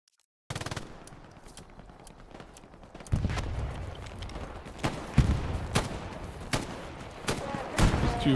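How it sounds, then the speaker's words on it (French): Self-propelled artillery and other guns in the Hell Let Loose game fire in a heavy, continuous barrage, with loud cracking bursts repeating over a deep rumble throughout. "il y a le SPA qui tire quand même"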